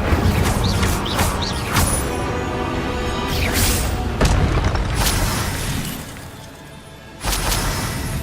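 Fire spell cast in the Hogwarts Legacy video game, heard as loud bursts and crashing impacts in a dense, continuous game soundscape, with a sharp swell near the end.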